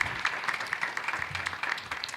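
Scattered applause from an audience at a 2024 Palm Coast general election candidate forum, modest and fairly quiet, with a few claps standing out over a soft wash.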